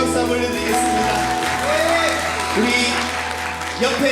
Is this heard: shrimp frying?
no